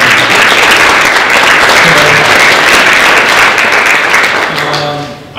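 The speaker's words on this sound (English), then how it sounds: "How about a round of applause for the Hadley Mothers Club?" Loud, sustained audience applause at a candidates' night forum, a thick wash of many hands clapping close by that carries on for several seconds before tapering slightly at the end.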